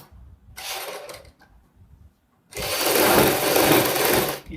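A sewing machine stitches the neckline of a kurti, running in a short burst, pausing briefly, then whirring steadily and loudly in a longer continuous run, close by with no talk.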